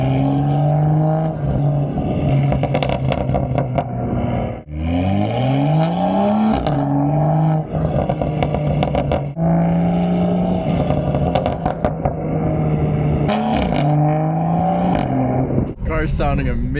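Straight-piped BMW with boot mode stage 2 tune, loud raspy exhaust while driving, repeated revving pulls through gears with sharp pitch climbs and brief lifts, someone talking over it.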